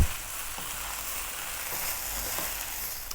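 Spicy chicken fried rice sizzles in a hot pan as coriander is stirred through, a steady, moderately loud frying hiss with a few soft scrapes, no voices.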